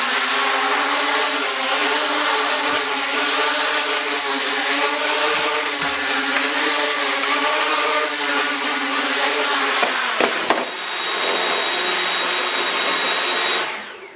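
Motors of a Hobbico Rise Vusion FPV race drone run as a steady, loud high-pitched whine for about ten seconds, then shift into a brief pitch change before settling again and cutting out at the end.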